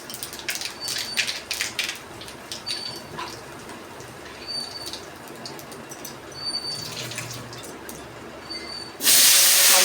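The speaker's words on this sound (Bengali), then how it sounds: "আমি কালো জিরে ফোড়ন দিয়ে দেবো" Nigella seeds sizzle in hot oil as a tempering for a kalia curry, a constant close hiss broken by crackling pops, swelling into a loud burst of sizzle at the very end.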